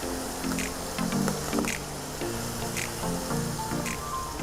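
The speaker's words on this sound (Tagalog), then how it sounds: "Pwede na tayo maglagay ng ating tubig or stock kung meron kayo." Water or stock poured into a pan of mapo tofu during cooking, a steady close liquid splashing and sizzling wash with a few brief clinks over about four seconds, no talking.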